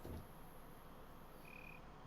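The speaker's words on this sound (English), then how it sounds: "A little cricket sound means that we're good to get going" A faint, short cricket-like chirp in a train simulator game signals the train is ready to depart from Munich toward Garmisch-Partenkirchen, a quiet ambience with a brief high trill partway through.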